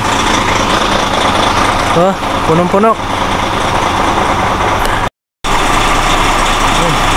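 Several trucks idle together in a crowded truck yard, a steady loud engine rumble that runs throughout, with someone speaking briefly over it.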